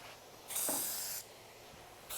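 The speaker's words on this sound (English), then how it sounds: "we've just sprayed the foam side" Spray adhesive hisses onto the foam side of a van wall panel in one sustained burst of a bit under a second, followed by quiet and the start of another spray at the end.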